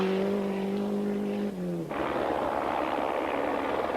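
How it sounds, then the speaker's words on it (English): Helicopter tracking a rally car during the 1993 Paris-Dakar Rally, a steady loud rotor and engine drone with harmonic hum that shifts abruptly midway into a broad roar, continuous throughout with no talk. "that helicopter giving us the TV pictures with some very spectacular flying"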